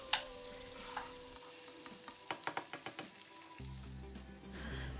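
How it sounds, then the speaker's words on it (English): Banana pancake batter sizzles in a hot buttered skillet, a soft steady frying hiss with a few brief clicks and taps of a utensil partway through, quiet and close. "We're putting it in the skillet, letting it sizzle"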